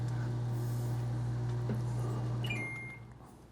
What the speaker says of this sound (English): Oh, the microwave's done.